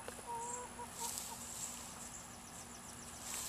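Chickens in a chicken tractor cluck softly in short bursts, fairly quiet against a low steady hum, with no talking.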